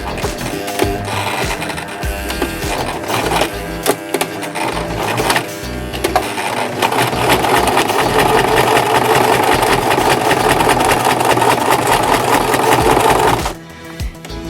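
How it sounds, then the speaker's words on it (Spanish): A pedal-driven sewing machine motor runs loud and close, stitching in a continuous rapid whir for most of the time before stopping abruptly near the end. "pisando al mismo tiempo el pedal y empujando con la rueda manual. Entonces ayudamos a que el motor coja fuerza"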